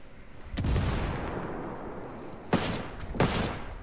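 Grenade blast and gunfire in Ghost Recon Wildlands PvP: a sustained rumbling roar with several sharp loud shots punctuating it, close and dense.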